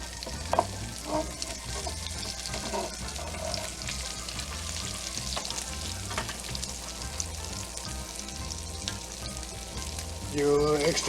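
A Monte Cristo sandwich with Gouda frying in butter while being basted, a steady close sizzle broken by spoon clinks and a louder burst near the end.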